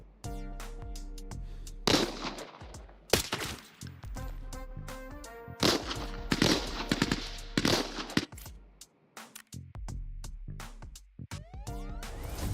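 Rapid bursts of gunfire in the video game Arena Breakout: Infinite, automatic volleys and single shots, with sharp impacts and musical tones between them, loud and close.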